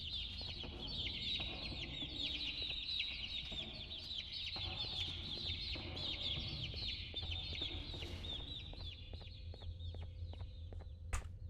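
Chickens clucking in a video game, a busy run of repeated sharp clucks and squawks from several birds over a low background hum, ending with one louder click.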